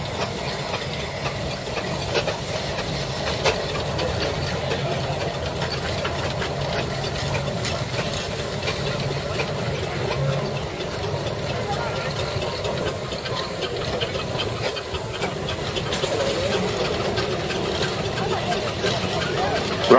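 A vintage steam engine runs steadily at an outdoor steam rally, its continuous hiss and mechanical churn filling the scene while voices murmur in the background.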